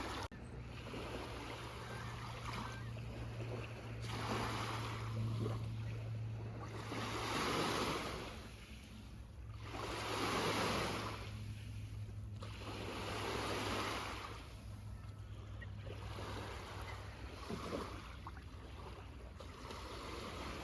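Gentle water waves wash in and out in slow, rolling surges on an August evening, a steady soft roar swelling and easing every few seconds with no voices.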